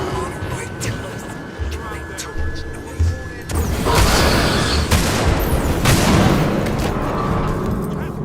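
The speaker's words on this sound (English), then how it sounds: "It was gunshots." Gunfire in the video game Alien Isolation, loud booming shots and blasts that erupt partway through over a tense ambient drone, with a player talking over parts of it.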